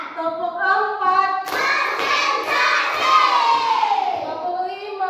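A roomful of children claps a patterned rhythm, a steady series of hand claps under loud shouting and chanting voices that carry through the whole stretch.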